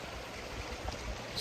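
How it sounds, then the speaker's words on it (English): A woodland stream runs on steadily, a soft, even wash of trickling water with no other sounds over it. "Streams running through here."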